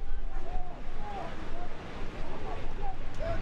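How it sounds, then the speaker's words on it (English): Rumbling, gusty wind buffeting the microphone at an under-19 football match between Germany and Belgium, steady and loud throughout with fluctuating roughness. "It's getting quite windy out there now"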